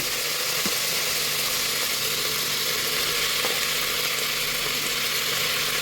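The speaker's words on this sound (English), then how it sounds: "So we add some oil, and now we are going to cook the meat." Meat frying in oil in a pan for a stew gives a loud, steady, broad hiss that holds unbroken throughout, with a faint low hum beneath and no voices.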